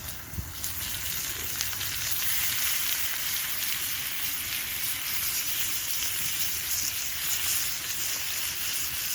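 Bacon sizzles and crackles steadily in a wire basket over a campfire grill outdoors, a dense continuous frying hiss that stays close and even throughout with no talk.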